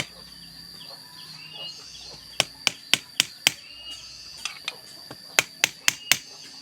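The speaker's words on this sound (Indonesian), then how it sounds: "Takol ku palu atawa ku martil mun aya mah." A hammer strikes the handle of a machete in a village setting, giving two quick runs of sharp, ringing knocks, about five and then about seven, close and loud over quiet background noise.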